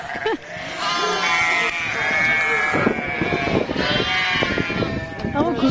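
Sheep and lambs on a farm bleat repeatedly and overlap as lambs reunite with their mothers and find milk, a busy chorus of cries close by, with people talking in the background.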